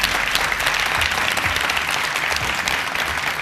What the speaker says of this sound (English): Round of applause for that debate.